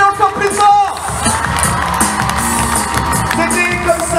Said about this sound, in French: Applaudissez-les encore plus fort.